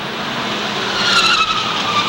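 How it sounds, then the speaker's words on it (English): A stock car spinning out on a damp short-track speedway, a loud continuous hiss of tire skid and engine roar that swells slightly toward the middle, with no talking. "He goes off the speedway in turn 2, gets into the moisture, goes around once."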